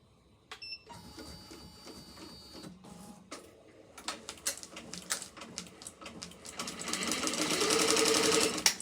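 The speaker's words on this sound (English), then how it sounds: "we're going to go ahead and start our stitch out" A home embroidery machine stitches a peace design on a hat held in an 8-in-1 hoop, its steady mechanical whir and rapid needle patter building louder toward the end, alone with no talk.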